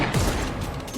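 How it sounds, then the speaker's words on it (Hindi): Dense burst of rapid gunfire in an action film shootout, loud overlapping shots packed into a single second with no clear gaps between them. "अबे उन पे नहीं, विक्रम पे गोलियां चलाओ"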